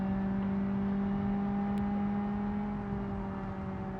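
A car transmission whines under heavy load at about 90 mph, a steady quiet tonal whine sitting in the background beneath continuous road and engine noise with no speech.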